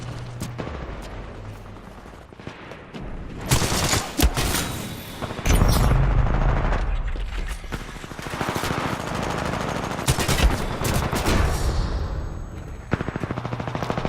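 Rapid automatic weapon fire in Titanfall 2 pilot-versus-pilot combat, dense bursts of gunshots with booming impacts, loud and continuous through most of the stretch.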